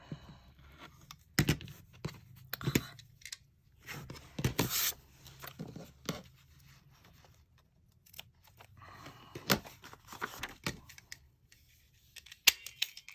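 Quiet scissors snipping paper for foundation paper piecing, with intermittent short cuts and rustling of paper scattered through a near, soft indoor scene.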